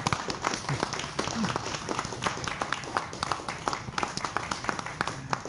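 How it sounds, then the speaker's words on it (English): Scattered applause from a small audience at an academic society's business meeting, with irregular claps spread through a quiet room, steady and moderately faint, with no voices over it. "can I just maybe solicit your applause to thank David for his service?"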